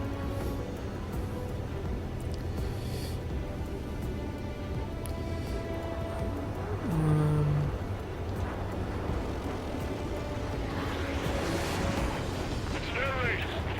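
Explosions and anti-aircraft fire from the Ace Combat 7: Skies Unknown flight game form a dense, continuous rumble of blasts and booming bursts under steady engine drone, with a heavier hit midway.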